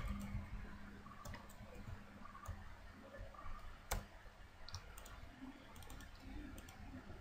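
Computer keyboard keys pressed while saving a document in Notepad, scattered quiet clicks and ticks over a low background hum, close but faint.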